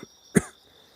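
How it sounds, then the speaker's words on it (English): A single short, sharp cough, close and fairly loud, with near silence around it. "Excuse me while I cough for a second."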